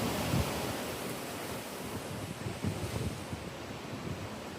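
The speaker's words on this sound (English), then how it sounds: "When that wind blowing like this, you know something heading this way." Strong gusting wind roars steadily across an outdoor microphone ahead of an approaching cold front, a dense, continuous rush with slight surges and no voices.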